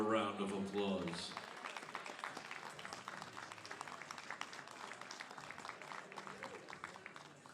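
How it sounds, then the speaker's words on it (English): Applause from the crowd at the Arnold Sports Festival Pro-Am bodybuilding event, sustained steady clapping after a brief voice at the start, fairly faint and distant throughout. "Give them all a round of applause"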